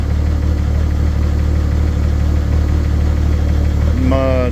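Engine of a 1983 Ford F150 after an engine conversion, started for the first time after sitting idle for over a year, running loud and steady with a constant low rumble, a brief rising tone joining near the end.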